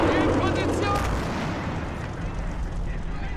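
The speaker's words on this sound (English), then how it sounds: "We'll stop holding fire on this gun." An anti-tank gun fires in a World War-style video game, giving one heavy boom that rolls off into a long rumbling decay with a faint voice under it.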